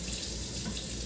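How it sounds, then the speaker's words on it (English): Tap water pours steadily into a pot of hamburger soup with tomato sauce, a continuous close splashing rush with no voices. "Yeah, I'm gonna do 4 more cups of water."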